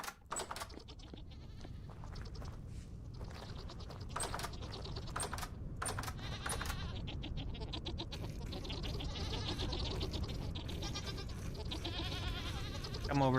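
Goats bleat in the survival video game Vintage Story, with several short nasal cries over a dense steady background and rapid keyboard typing clicks throughout.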